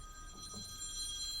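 A cell phone rings briefly and faintly during a masterclass talk on electric outboard engines. A short electronic tone sits over a quiet room hum.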